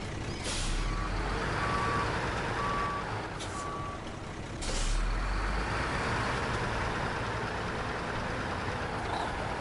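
Reversing beeps from a truck backing up with a trailer in the SnowRunner video game: four evenly spaced electronic beeps sound over a steady low engine rumble, with a hiss like an air brake partway through.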